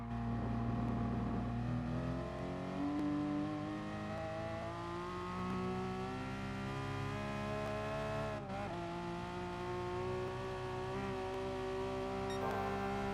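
Race car engine in Gran Turismo Sport at the Nürburgring Nordschleife, holding a loud, steady high-revving drone at full throttle that climbs gradually in pitch, with a brief dip near the end.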